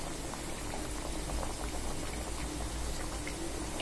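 A koral fish curry simmers in a pan with a steady, dense bubbling that stays close and even for a few seconds, with no voices over it.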